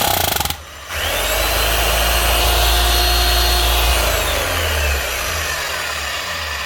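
An old 240-volt Hitachi DH38YE demolition hammer runs steadily and loudly after a brief start, its motor droning smoothly for several seconds with no talk.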